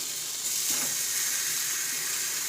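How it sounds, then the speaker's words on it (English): Chiles sizzle steadily on a hot comal, a continuous bright hiss with faint crackles, no voices. "I've rinsed them so they're going to sizzle"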